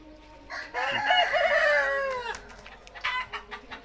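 A rooster crows once, loud and close, its drawn-out call rising then breaking off, followed by a few short clucks from nearby chickens.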